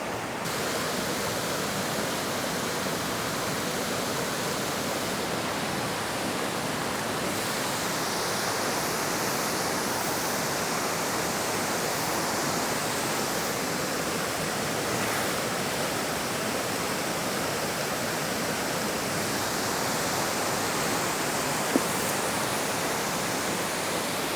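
A waterfall roars in a steady, dense rush of falling water, loud and unbroken throughout, with no voices over it.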